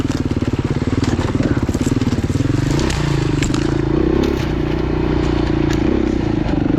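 Dirt motorcycle ridden along the Pine Valley trail, its engine droning steadily and loud close by, with a constant rhythmic throb throughout and scraping, crackling brush and debris against the bike.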